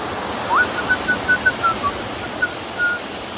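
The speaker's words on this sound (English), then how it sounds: "There's a nice waterfall." Waterfall at Cathedral Cove, New Zealand, giving a steady, broad rush of falling water close by. A thin whistle-like tone drifts in and out above it.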